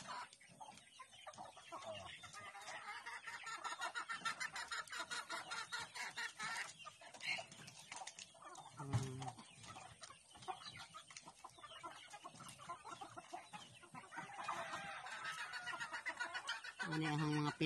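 Chickens cluck repeatedly at close range in an irregular, continuous chatter, with people talking over the birds throughout.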